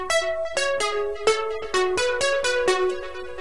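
Synth unison lead pluck passed through a ping pong delay, playing a rhythmic series of bright, harmonically rich plucked notes with short echoes trailing each hit, steady and alone.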